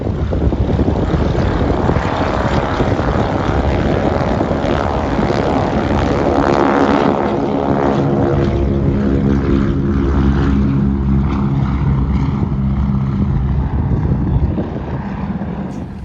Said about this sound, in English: We're going to jump on this Ford Tri-Motor and take a little ride around Lorain County out over the lake